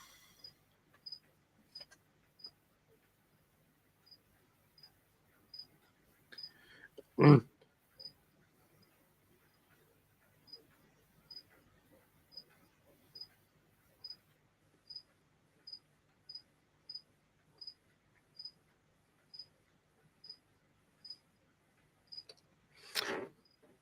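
Black crickets chirping indoors, a regular series of short, high, thin chirps repeating about once a second, faint and steady, broken by a couple of louder thumps.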